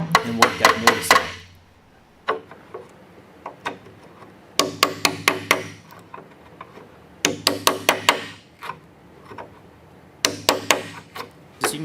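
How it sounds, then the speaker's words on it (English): A chisel is hammered into wood to chop out a mortise while building a Shaker dresser: close, sharp knocking blows in quick clusters of four to six, separated by pauses and scattered single taps, with no talk. "use this chisel, which allows you to get into that tight space and hammer away and work that mortise out"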